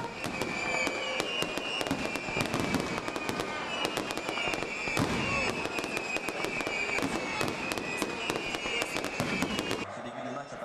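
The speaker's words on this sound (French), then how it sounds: "le feu d'artifice tiré depuis les collines surplombant" Fireworks launched from the hills above Ribeauvillé during a town festival, a dense barrage of sharp bangs and crackling bursts rolling continuously, with faint crowd voices mixed underneath.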